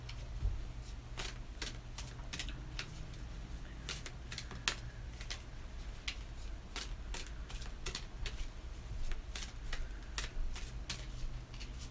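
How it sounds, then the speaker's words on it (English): Oracle cards from a chakra deck are shuffled by hand, giving a steady run of soft, close riffling flicks and sharp card snaps across a quiet room, with no talking. "I will pull an oracle card for you from the chakra deck"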